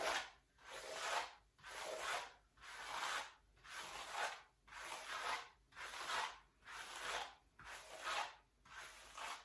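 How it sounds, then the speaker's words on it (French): Long hair being brushed with steady, repeated strokes, about ten even swishes over several seconds, close and fairly quiet, with no talking. "d'abord il faudra que je me brosse les cheveux"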